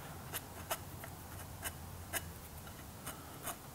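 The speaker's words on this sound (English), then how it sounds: "I'm just going to rip off a bit of sandpaper and carefully take off those very corners." Sandpaper rubbed by hand over the corners of a wooden dovetail box, a series of short, scratchy strokes at an uneven pace, close and faint with no talking.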